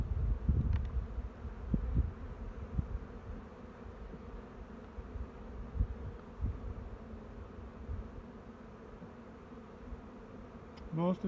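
Honey bees hum and buzz in an opened hive box that overwintered inside a shed in early spring, a low steady drone with occasional louder passes from individual bees close by.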